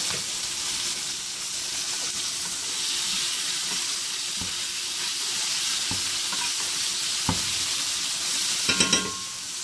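A T-bone steak cooking toward medium sizzles steadily in a pan, close and even, with a few faint clicks of utensils and a short clatter near the end; no one speaks.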